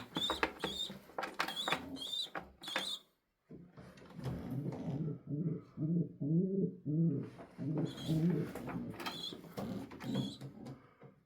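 Pigeons in a pigeon loft, with close, low rhythmic cooing phrases and repeated higher calls and flutters, busy and near, with a brief silent gap early on.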